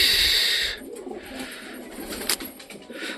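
Caged pigeons coo close by, starting with a loud, breathy burst and followed by softer, repeated low coos in a quiet room.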